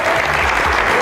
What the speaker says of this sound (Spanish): señores, el aplauso para él